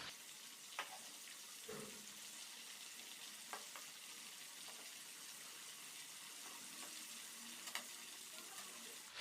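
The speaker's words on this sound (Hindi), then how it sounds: "चिकन को फ्राई होते हुए तकरीबन 3 से 4 मिनट हो चुके हैं" Pieces of chicken sizzle steadily in hot oil in a pan while cooking pulao, with occasional clicks and scrapes from stirring or turning over a continuous frying hiss.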